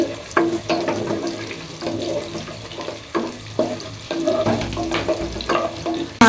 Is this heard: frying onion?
yes